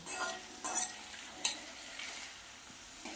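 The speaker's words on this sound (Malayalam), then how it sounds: "എന്നിട്ടൊന്ന് ഇളക്കി കൊടുക്കാം അപ്പോൾ ഈ ഉള്ളിയൊക്കെ ഈ എണ്ണയിൽ കിടന്നൊന്ന് കളർ മാറി വരണം" Onions stirred and sautéed in hot oil in a pan, a soft steady sizzle with a few scraping stirs and one sharp utensil knock, close by and fairly quiet, no talking.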